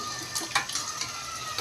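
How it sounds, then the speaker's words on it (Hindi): Water is poured into a cooking pot of rice for mutton pulao, a steady close splashing gush with small bursts, heard alone. "तो अब इस पॉइंट पर मैं इसमें ये पानी ऐड करूँगी।"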